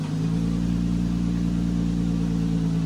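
A Lexus IS300 engine hums steadily at a mid pitch from close by, a continuous drone with no distinct rev spikes or shifts audible.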